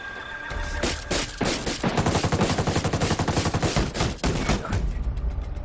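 Rapid automatic gunfire in the video game Ghost Recon Wildlands Ghost War, dense sustained bursts of loud shots rattling continuously for several seconds, no speech.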